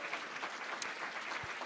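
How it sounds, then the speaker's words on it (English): A gala crowd claps for guests in the room, a steady, soft wash of many hands heard at a distance, with one brief low thump near the end. "let's give a round of applause to them"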